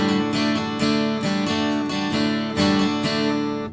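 Acoustic guitar strumming the D-chord intro of a song with index-finger hammer-ons, bright ringing chords struck in a quick repeating rhythm, close and clear with no talking.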